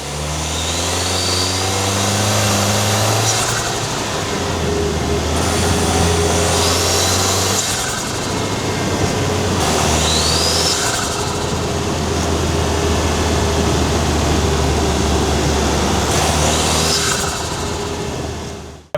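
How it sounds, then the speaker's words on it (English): A 4th gen Toyota Tacoma's engine and turbo while driving, loud and continuous, rising through several gear changes with brief dips between them and a faint turbo whistle over the drone; no one speaks. "you can actually really hear the turbo pretty well"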